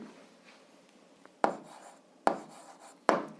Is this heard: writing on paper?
yes